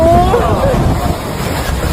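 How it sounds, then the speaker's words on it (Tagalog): Strong typhoon wind roars and buffets the microphone with a steady low rumble, gusting throughout, with voices faintly audible underneath. "Ang lakas ng hangin!"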